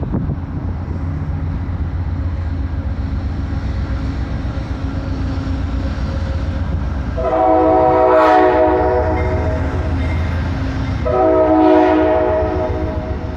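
An Amtrak train horn blows two long, loud blasts over the steady rumble of the approaching train in central Pennsylvania.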